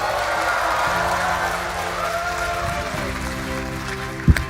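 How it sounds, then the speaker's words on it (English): Broad crowd applause spreads through a large keynote hall at the COMPUTEX trade show as NVIDIA's Jensen Huang is welcomed, a dense, continuous wash of clapping with steady hum underneath and a sharp thump near the end. "Let's give him a big applause."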